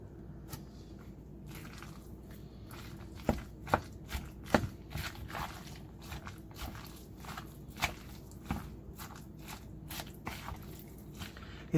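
Meatball mixture of ground meat, cooked rice and egg being mixed by hand, with soft irregular squishing and slapping sounds, quiet and close, with occasional sharper knocks against the bowl.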